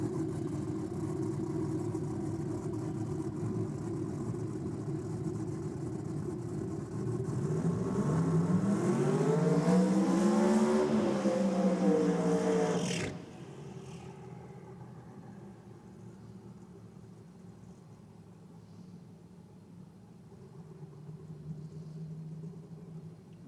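A drag racing car at an NSW championship meet, running around 238 mph, roars past in a rising, sweeping engine howl that peaks and then drops off sharply, leaving a low distant rumble behind.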